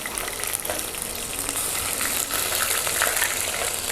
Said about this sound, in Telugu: అల్లం పేస్ట్ వేస్తాను